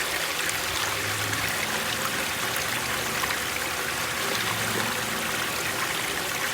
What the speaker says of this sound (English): I'll probably just pour some of this nasty, dirty water out